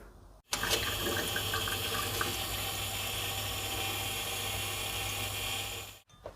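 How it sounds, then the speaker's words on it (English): Water runs steadily from a kitchen tap into a measuring cup, roughly a cup and a third for pancake batter. The close, even gushing lasts several seconds before stopping abruptly. "I'm going to add some water"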